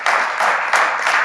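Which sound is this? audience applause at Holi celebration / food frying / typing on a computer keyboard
audience applause at Holi celebration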